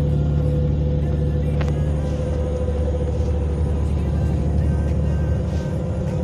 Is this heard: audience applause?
no